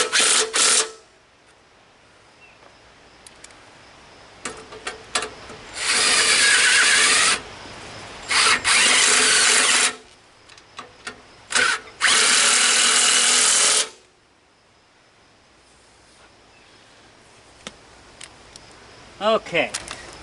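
An Ingersoll Rand power tool, used while working on a Wheel Horse Commando 8 tractor, fires in several loud, close bursts of two to three seconds each, separated by quieter handling noises and clanks.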